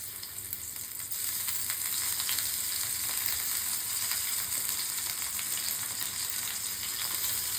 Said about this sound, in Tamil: கருவேப்பிலை போட்டாச்சு, எண்ணெயும் ஊற்றியாச்சு. இப்போ இறாலை போட்டுடலாம்.